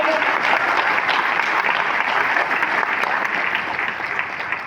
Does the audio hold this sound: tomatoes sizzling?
no